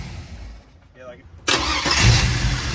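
A car engine cranks and catches after a quiet moment, then runs with a loud, steady idle close by while a voice speaks over it.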